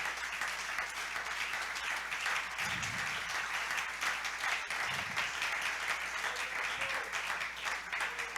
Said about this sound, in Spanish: Fuerte ese aplauso, hermano